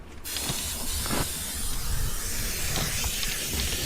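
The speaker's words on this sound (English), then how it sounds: "this is a non-toxic spray adhesive that we're using" A steady, continuous hiss of an aerosol can of spray adhesive spraying for a few seconds, close up, with no talking.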